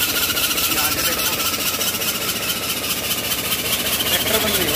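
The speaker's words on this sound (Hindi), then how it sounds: "ट्रैक्टर बंद नहीं हो रहा है" An ALT 4000 tractor engine runs steadily and loudly, a dense mechanical rumble with rattling vibration from a tractor that will not shut off after its silencer was blocked, held at an even level close by.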